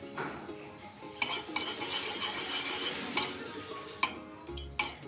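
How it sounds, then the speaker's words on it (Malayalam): Nuts frying in ghee in a pan for payasam, a soft steady sizzle with a spoon stirring and scraping, and occasional sharp clinks of metal against the pan. "അതിലേക്കൊരു 2 ടേബിൾ സ്പൂൺ ഗീ ഒഴിച്ചു കൊടുക്കുക"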